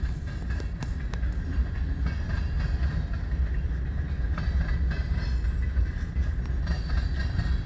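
A train rolls steadily past on the Union Pacific Blair subdivision, the former C&W main line at Fremont, Nebraska, with loud continuous rumble, wheel clatter and occasional squeal, close by and without talk.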